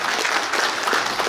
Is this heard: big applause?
yes